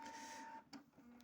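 A new Canon printer runs while loading, giving a steady mechanical whir with a faint tone and then a couple of short clicks, quiet and close, with nobody talking.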